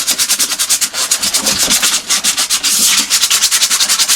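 80-grit sandpaper is rubbed hard over a rusty wheel in rapid, continuous back-and-forth strokes, loud and close, a harsh gritty scraping with a steady rhythm.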